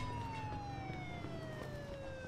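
A police car siren wails in the Mafia 2 video game, a steady descending electronic tone held over a low rumble of city traffic for the whole stretch, moderately loud and with no voices.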